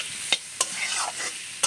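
Spice paste for a pointed gourd (potol) curry sizzles in a pan over a wood-fired clay stove, with quiet frying hiss broken by several sharp scraping strokes of the stirring spoon.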